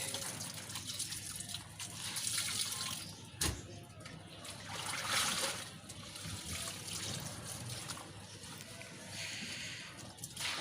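Soft, continuous hiss of winter rain falling with scattered drips and trickles, fairly faint and even, with one sharp knock partway through and a voice faintly present.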